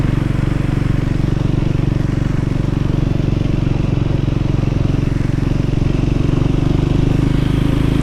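A Triumph Scrambler 400 X motorcycle pulls away in fourth gear at low speed, its engine a loud, steady throbbing drone mixed with heavy wind buffeting throughout.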